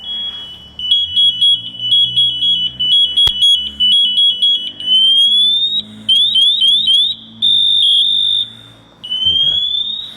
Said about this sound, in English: Well, that's just to make that alarm go off, so it doesn't make it a loud sound.